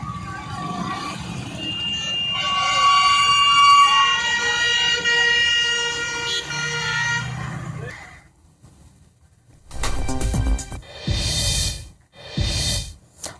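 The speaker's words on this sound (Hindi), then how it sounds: "आग बुझाने में दमकल की 6 गाड़ियां लगातार कोशिश कर रही हैं" Fire engine sirens at a building fire, loud wailing tones rising and falling for several seconds, then a pause followed by short bursts of vehicle noise and further siren sweeps.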